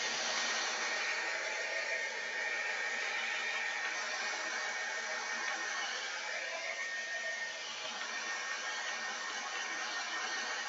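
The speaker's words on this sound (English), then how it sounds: "I'm going to dry this real fast with a hair dryer" A hair dryer set on low blows steadily and close up while drying paint on a Jo Sonja starfish craft project, with an even whooshing rush that holds for the whole stretch and no one speaking.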